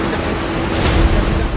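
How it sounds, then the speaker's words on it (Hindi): A waterfall in flood pours down a broken mountainside in Assam, a loud, dense, continuous roar of rushing water with no pause. "पहाड़ों को तोड़कर तेज आवाज से बहते इस झरने को देखिए"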